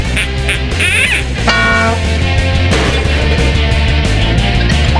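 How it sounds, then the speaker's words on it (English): A loud, close cartoonish duck quacks in a burst of nasal honks over background music, a sound effect from the trivia game You Don't Know Jack 2015 on Nintendo Switch. "and also for this trivia-loving duck"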